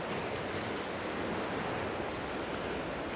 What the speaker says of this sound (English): trying to get all these boulders and the waves crashing over the rocks here